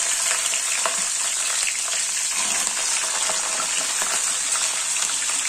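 Masala peanuts fry in hot oil with a loud, dense, continuous crackling hiss that holds steady from start to end, with no voices.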